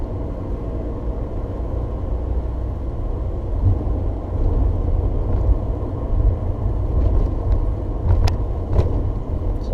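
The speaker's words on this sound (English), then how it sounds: "I'll show you downshifting into 3rd gear again" Car engine note for a double-clutched downshift into third gear, dropping from a lazy fourth-gear cruise near 35 mph: a steady low rumble with a brief rise in revs partway through, close and continuous, with no talk.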